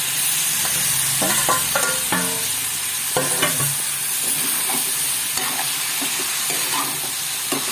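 Cauliflower curry sizzles in a pan while a spoon stirs it, giving scraping stirs and crackling frying up close that carry on throughout, with no one speaking.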